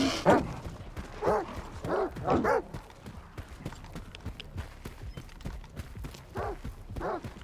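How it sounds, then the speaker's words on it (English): Dogs bark in the Stalker 2: Heart of Chernobyl video game, with several sharp bursts scattered over a few seconds amid game footsteps and ambience, fairly close and moderately loud. "Oh, there's dogs too. Oh, they're everywhere."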